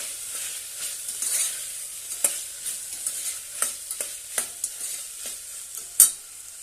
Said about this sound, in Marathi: थोडीशी कोथिंबीर आणि छानपैकी परतून घेऊया